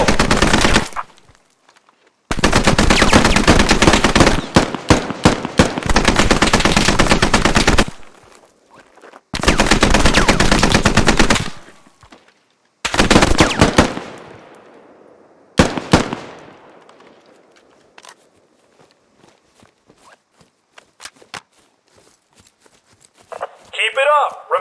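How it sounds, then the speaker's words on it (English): Gunfire in the PC military shooter Squad: long loud bursts of automatic weapon fire and clusters of single shots, separated by silent gaps and ending in scattered fading shots. "You're being shot at."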